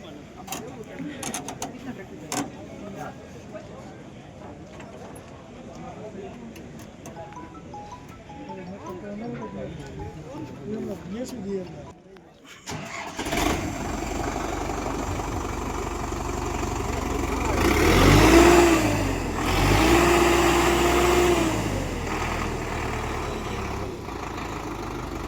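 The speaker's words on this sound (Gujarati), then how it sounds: "તો આપણે ટ્રેક્ટર ચાલુ કરી દઈએ અને અવાજ બહુ કેવો છે આપણે હાલો તો." A Preet tractor at a 2026 agricultural fair in Kalavad starts up, and its diesel engine then runs at a steady, loud idle. Someone talks over it through the first half before the engine noise takes over.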